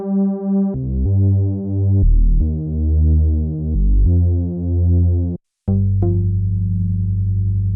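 Thick bass notes from Arturia V Collection 8 synthesizer emulations play in a slow sequence, each held and pulsing, with a brief silence before a final sustained tone.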